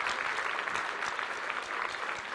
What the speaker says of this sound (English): let's just stand up and give our pastors a big round of applause